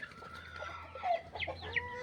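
A rooster clucks among its chicks, giving a few short, high calls over a steady low hum in a farmyard.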